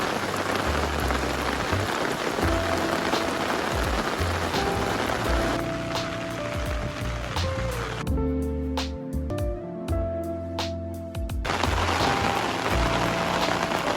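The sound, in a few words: rain falling during a mountain trek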